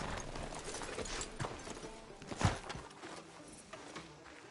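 Horse hooves clip-clop at a walking pace in the Red Dead Redemption 2 video game, quiet and fairly close, with a single heavier thud near the middle and faint creaking tack between steps.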